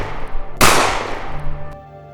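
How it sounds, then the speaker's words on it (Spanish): Two shots from a gun loaded with rubber bullets ring out across a bridge: one loud, sharp crack that decays into a ringing tail, then a much fainter second report, with no voices. "Dos disparos resonaron por el puente"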